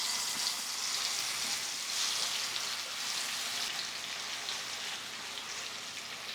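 Marinated chicken pieces fry in hot mustard oil in a pan, giving a loud, steady, close sizzle with a dense crackle that holds evenly throughout, and nobody talks.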